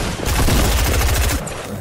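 Rapid automatic gunfire in the video game Fortnite sounds as a loud, tight burst of repeated shots for over a second, then a quieter tail.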